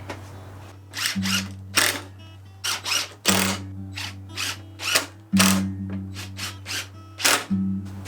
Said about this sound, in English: I'm also going to use the impact driver.